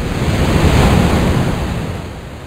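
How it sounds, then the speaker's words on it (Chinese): An ocean waves sound effect gives a loud, continuous rush of surf that eases slightly toward the end. "有没有感觉海浪前面这一个很大声？"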